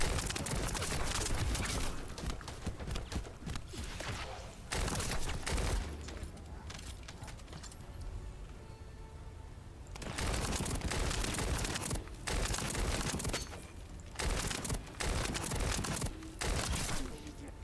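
Pulse rifle fire in a looter shooter video game comes in loud, dense bursts of rapid shots separated by short pauses, with a voice talking faintly in the quieter gaps.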